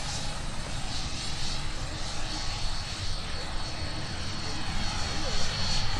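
A plane takes off at Minneapolis–Saint Paul airport with a distant, steady engine roar rising slightly, under faint air-traffic-control radio talk.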